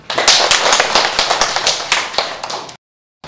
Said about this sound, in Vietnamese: Các bạn hãy vỗ tay đi nào.